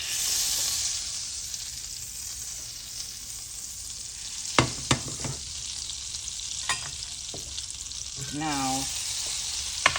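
Butter and olive oil sizzle steadily in a pan, a constant hiss throughout with a few brief clinks and scrapes, and one short spoken word near the start.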